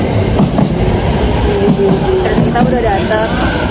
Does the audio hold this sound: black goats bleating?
no